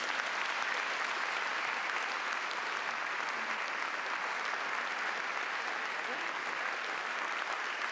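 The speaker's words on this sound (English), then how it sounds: "A round of applause, please, for Marla." Steady, dense applause from a sizable audience, continuous clapping at even volume throughout without any pause.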